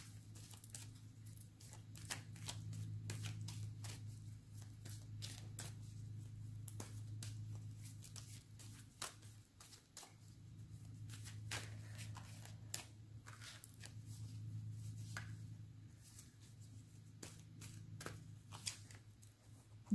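Tarot cards shuffled over and over, a run of crisp papery riffles and soft flicks with a steady low hum beneath, close and fairly quiet with no talking.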